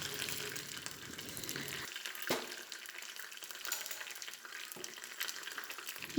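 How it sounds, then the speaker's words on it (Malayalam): Curry leaves on their stems fry in a little coconut oil in a pan, a soft continuous sizzle close by with a few small clicks and no voices. "ഒരു പാനിലൊരു അല്പം വെളിച്ചെണ്ണ ഒഴിച്ചിട്ട് അതിലേക്ക് കുറച്ച് കറിവേപ്പില"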